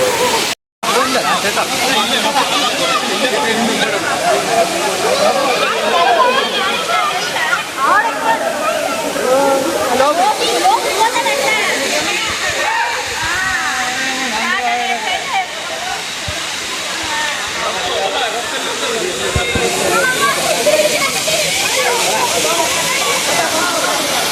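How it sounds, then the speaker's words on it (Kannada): Rushing water of Talakona waterfall near Tirupati, Andhra Pradesh, a loud continuous roar and hiss that fills the whole stretch, with people talking over it now and then. "ಈ ಥರ ವಾಟರ್ ಫಾಲು"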